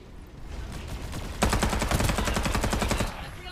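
Rapid automatic gunfire in the Farlight 84 battle game: a dense burst of fast, evenly spaced shots lasting about a second and a half, loud and close over a steady game background, with no talking.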